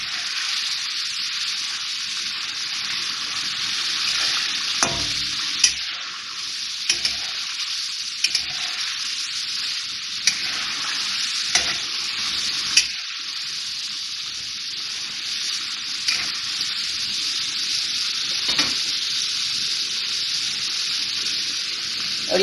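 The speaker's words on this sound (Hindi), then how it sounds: "अब इसमें ये लहसुन अदरक का पेस्ट 3 टेबल स्पून" Beef sizzling in a karahi with three tablespoons of garlic and ginger paste, a continuous hissing fry close up, punctuated by repeated sharp knocks and scrapes of a stirring spoon, no one speaking.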